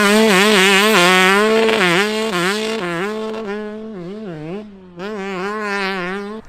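A motorcycle fitted with an all-American Pro Circuit exhaust pipe revs hard on a race track, close and loud, its engine note climbing and dropping through repeated throttle blips with a brief lull before rising again.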